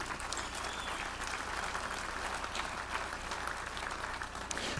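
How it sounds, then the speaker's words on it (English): Audience applause at a charity foundation event, a steady wash of clapping from a crowd heard alone at an even level throughout. "You can give a round of applause."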